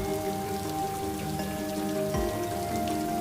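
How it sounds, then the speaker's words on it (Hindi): Rain falls steadily at night in a soft, even patter, heard under sustained droning tones and a low hum. "बारिश लगातार बढ़ रही थी।"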